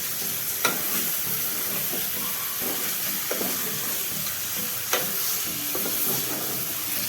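Chicken sautés in a pan for a spicy chicken rassa, a steady close sizzle and hiss with occasional scrapes and clinks of a spoon stirring against the pan.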